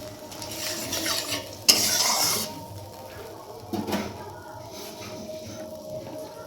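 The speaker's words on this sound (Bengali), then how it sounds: "এবার আমি এর মধ্যে অল্প পরিমাণ জল দিয়ে দিলাম।" Water poured into frying soybean masala for soybean muithya sets off a sharp burst of sizzle, then steady stirring and scraping of a spoon in the pan, with another clatter of utensils shortly after.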